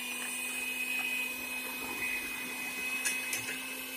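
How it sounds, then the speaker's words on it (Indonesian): Electric hand mixer creaming butter with sugar for chocolate chip cookies, a steady motor whine running throughout at moderate level with faint scraping of the beaters in the bowl. "Mentega kita mixer bersama dengan gula."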